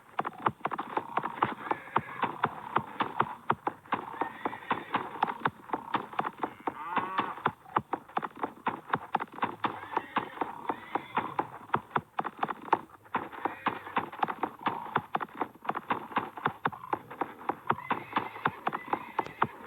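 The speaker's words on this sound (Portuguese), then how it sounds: "Eu vou pegar o cavalinho aqui no último." A horse in the Survivalcraft 2 video game trots steadily, its clip-clop hoofbeats a fast, even rhythm that runs without pause, with faint whinny-like sounds mixed in and no talking.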